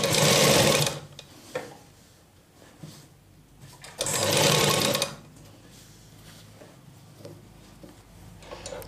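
A sewing machine runs in two loud bursts while stitching a blouse, each lasting about a second, separated by quieter handling sounds.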